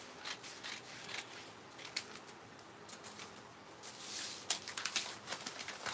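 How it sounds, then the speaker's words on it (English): Scissors snip through fabric to cut out a shoulder strip for a gathered-waist flare dress, giving quiet, irregular clipping strokes with a denser burst of cuts near the end, close and faint, with no talking. "Then we'll cut out this shoulder for our shoulder strip."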